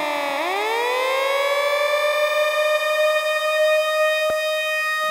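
A dub siren sound effect: a synthetic tone sweeps upward then holds a steady, piercing electronic wail, loud and continuous, with a click near the end.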